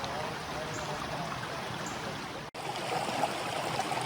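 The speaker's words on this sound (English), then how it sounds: "So we actually came down here next to the creek, having fun." A creek flows beside a campsite on the Appalachian Trail, a quiet, continuous wash of running water with a brief break partway through and faint voices in the background.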